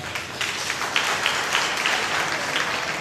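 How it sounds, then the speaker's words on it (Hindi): A church congregation applauds with steady, dense clapping that fills the room evenly from start to finish, loud and close, with no speech over it. "एक अच्छी ताली प्रभु के लिए"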